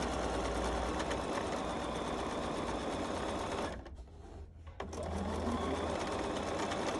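A sewing machine stitches a seam along a striped fabric table runner, running steadily and loudly with a brief pause midway before the motor resumes.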